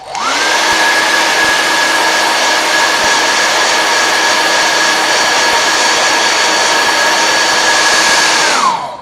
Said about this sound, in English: I'm keep popping in with that hairdryer